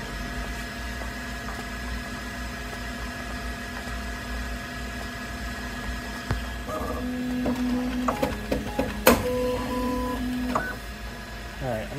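A Bambu Lab X1 Carbon 3D printer running, a steady motor hum with tonal stepper whines and clicks that shift pitch partway through, with some talking in the background.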